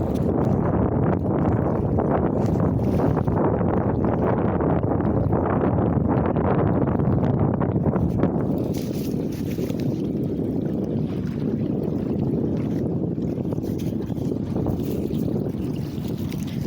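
An aluminum boat fitted with a jet ski engine and jet pump runs on water with a loud continuous engine drone and rushing water, buffeted by heavy wind noise, and no talk.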